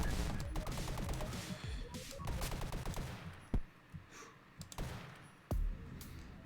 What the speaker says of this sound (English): The SMG is surprisingly effective.